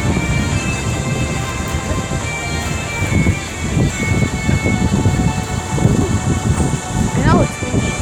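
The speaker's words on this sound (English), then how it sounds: "I know it's windy." Wind buffets a phone microphone outdoors on a walk home from school, a steady broadband rush with gusts under occasional talking and passing street noise.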